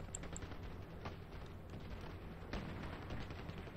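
Gunfire in the video game Battlefield Play4Free: dense, rumbling shots and blasts run throughout, with a sharper report near the end, no talk over it.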